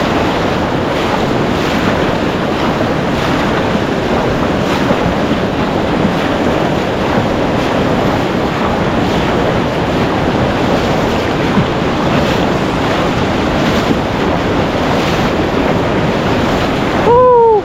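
Sea waves and gusting wind on a seashore: a constant, loud wash of surf mixed with rough wind buffeting the microphone, steady for the whole stretch, with no voices.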